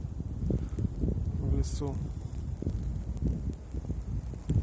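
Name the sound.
wind in a winter forest during a heavy snowstorm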